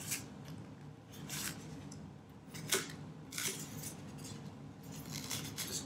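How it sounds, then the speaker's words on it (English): An X-Acto blade slices and scrapes through foam for a sculpture, giving repeated close, scratchy strokes and one sharp snap, fairly quiet and with no talk. "try to cut your foam or whatever you're using. I'm going to use the exacto blade again."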